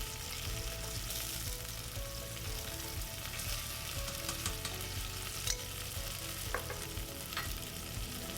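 Ginger and garlic paste frying in a pan of cooking lentils (split pigeon peas, toor dal), a steady close sizzle with faint stirring scrapes throughout.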